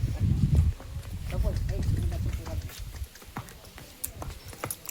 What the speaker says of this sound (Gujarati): ઘોડો અત્યારે જો થોડોક હાકે છે.